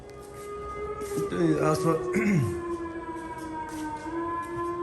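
A wailing siren rises and falls in the distance, with a steady tone running beneath and a voice briefly audible over it.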